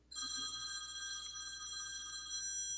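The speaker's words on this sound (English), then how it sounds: "my phone's going to ring" A telephone rings with a steady electronic trilling tone that carries on for several seconds, fairly faint and distant-sounding over a low background hum, no talking.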